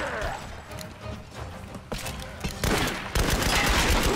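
Rapid gunfire from the Tomb Raider video game on a multiplayer map: a dense, continuous volley of shots that swells louder toward the end, with sharp impacts layered over a noisy battle background.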